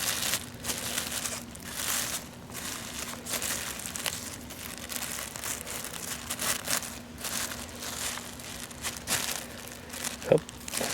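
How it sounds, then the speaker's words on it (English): A plastic bag crinkles and rustles as it is pulled off an air layer on a Trovita orange tree branch, a steady close crackle lasting throughout with a brief sharper crunch near the end. "take this bag off"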